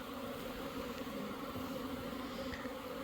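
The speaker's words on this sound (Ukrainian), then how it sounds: "Бачите, скільки бджоли виходить" A dense, steady buzz of many honeybees flying out of their hives on orientation flights, constant and close, with no voices.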